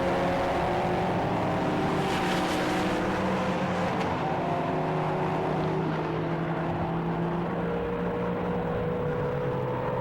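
Race cars including an Audi and a BMW 1M in the Britcar endurance race at Silverstone, 2021, a continuous loud engine roar with droning tones that shift pitch as the cars run, steady throughout without speech.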